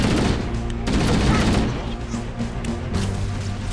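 Dense, loud gunfire and crashing battle noise in the video game Halo CE, a continuous chaotic barrage without clear breaks.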